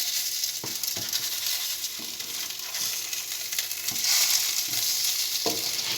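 A salmon burger sizzles loudly and steadily in a hot pan, with several soft knocks and scrapes as it is moved and flipped, close up with no talking.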